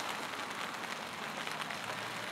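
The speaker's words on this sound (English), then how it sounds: "it's pouring rain now" Pouring rain outdoors, a steady dense hiss of drops hitting surfaces, fairly faint and even throughout.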